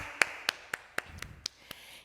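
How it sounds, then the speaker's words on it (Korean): A children's church congregation of seven-year-olds to second graders claps together at a Sunday service in Bucheon, giving seven sharp, evenly spaced claps at a steady rhythm, fairly close and moderately loud. "다 같이 하나님께 영광의 박수 올려드리겠습니다"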